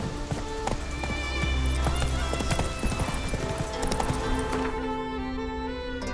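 Roach, the horse in the video game The Witcher 3: Wild Hunt, trotting with a steady, close clip-clop of hooves over a dense game soundtrack and ambience.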